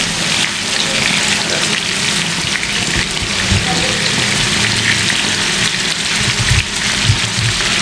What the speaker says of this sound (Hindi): इसको हमने जो है ना शैलो फ्राई करना है